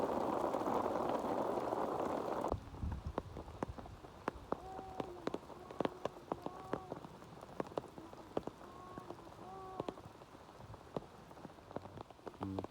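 Heavy storm rain pounds down loudly near rice fields for a few seconds, then abruptly drops to a much quieter wash with scattered drips and intermittent high chirping tones.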